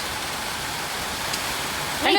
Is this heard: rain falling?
yes